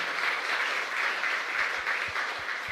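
A crowd claps steadily and evenly during Mass in a church, a sustained wash of applause in a reverberant room, with no voices over it.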